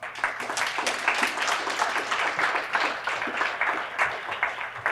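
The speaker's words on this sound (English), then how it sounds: "I think that deserves a round of applause." An audience at a summer youth employment program celebration gives a steady round of applause, a dense continuous wash of many hands clapping at moderate volume with no speech over it.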